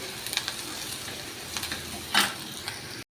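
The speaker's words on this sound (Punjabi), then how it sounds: "ਆਪਾਂ ਨਾਲ ਦੀ ਨਾਲ ਪਿਆਜ਼ ਭੁੰਨ ਰਹੇ ਹਾਂ ਉਹਦਾ ਤੜਕਾ ਲਾ ਰਹੇ" Onions fry in hot oil for a dal tadka, giving a soft steady sizzle with faint scattered crackles and one brief louder flare of spattering near the end, heard alone without talk.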